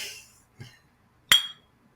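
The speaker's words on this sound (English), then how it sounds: "I'm tired of that fucking glass." A single bright glass clink rings out once, sharp and close, after a couple of softer knocks, with no talk over it.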